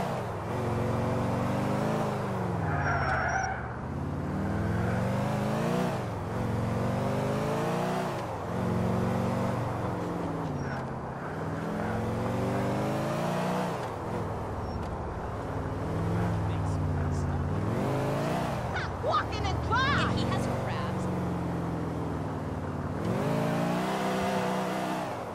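A car is driven hard in a chase in the video game GTA 4, its engine revving up and down in repeated surges with occasional tire squeal, while voices talk over it throughout.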